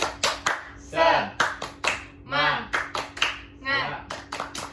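A classroom of children claps a rhythmic 'tepuk semangat' pattern in bursts of quick claps, with children's voices chanting along between them, loud and close.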